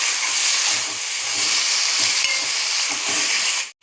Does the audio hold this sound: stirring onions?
yes